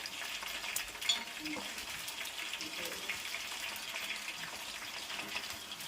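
Leaves drop into heating oil in a pan for homemade hair oil, giving a faint, steady sizzle and bubbling with a few soft clinks and stirring sounds.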